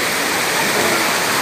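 The Cascada de los Vientos waterfall roars as a dense, steady rush of falling water, loud and close, filling the whole moment without any voices.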